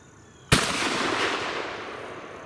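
A Fusion Firearms Bull Prime shotgun fires a single Federal Premium rifled slug, one sharp, loud blast followed by a long echoing decay outdoors.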